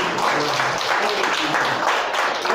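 Church congregation applauding during a sermon, a thick, continuous wash of clapping that stays close and loud for the whole stretch.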